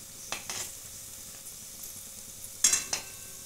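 Semolina biscuits fry in a pan over medium heat, a faint steady sizzle broken by a few brief scraping stirs, with a louder clatter near the end.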